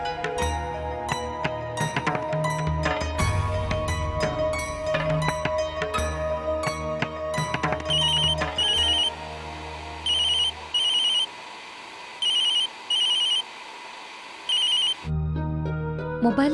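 A mobile phone rings unanswered: a repeating electronic ringtone melody in regular bursts, first over background music, then alone in evenly spaced pulses before the music returns.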